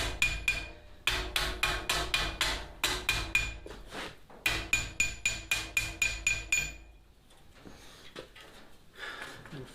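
Hammer striking metal sign corners held over a fuller in a vise, bursts of sharp ringing blows in quick rhythmic runs, close and loud, tapering into quieter handling noise.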